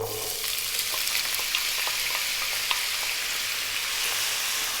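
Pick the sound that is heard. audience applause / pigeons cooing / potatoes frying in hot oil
potatoes frying in hot oil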